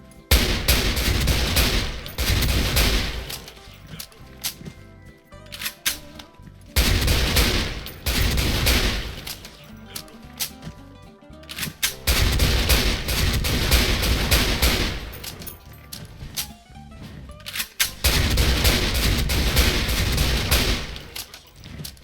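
An M14 EBR rifle fires in the Special Force 2 shooter game: loud bursts of rapid shots in several dense clusters separated by brief pauses, close and punchy, with no talking over them.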